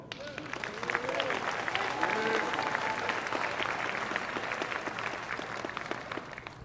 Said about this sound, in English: Folks, a big round of applause, our newest South Carolina State honoree into the Hall of Fame, Benny McMurray.